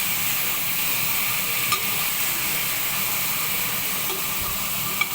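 Mutton pieces fry in hot oil for a curry, giving a steady, loud, unbroken sizzle with a couple of faint clicks near the end.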